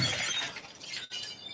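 A stylish glass coffee table shatters in a loud, sustained crash of breaking glass, a bright burst of shards that briefly cuts out and then continues with tinkling debris.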